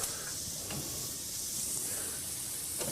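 Steady hiss and sizzle of food sauteing in hot oil in a pan, continuous and close with faint clinks of stirring.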